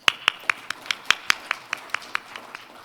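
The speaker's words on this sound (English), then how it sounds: "Please join me in welcoming Dr." Slow, sparse clapping at a forum, about a dozen sharp distinct claps at an even rhythm, close and fairly loud, with no talk.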